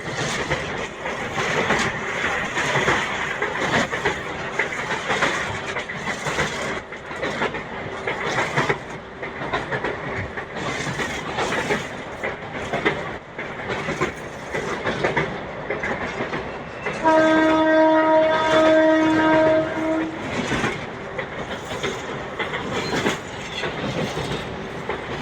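A MEMU commuter train rolls across the Krishna River bridge with a steady rumble and rhythmic wheel clatter, and a loud horn sounds for a few seconds near the end.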